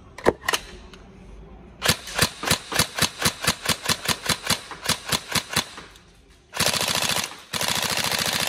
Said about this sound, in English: As with any mechanical gun, you make sure that you do a full complete trigger pull all the way to the rear